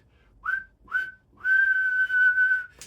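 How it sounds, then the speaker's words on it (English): A referee's whistle at a football match sounds as two short rising blasts followed by one long, sustained blast, clear and loud against a quiet background. "Referee's got his whistle in his mouth."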